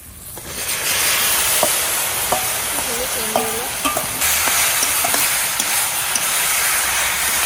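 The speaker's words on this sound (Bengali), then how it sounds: "এখন আমরা সিদ্ধ করা চালতেটা দিয়ে দেবো" Boiled elephant apple dropped into hot oil and jaggery in a wok for pickle, a sizzle that swells up suddenly and holds strong and steady, with a few faint clinks and a brief tonal squeal.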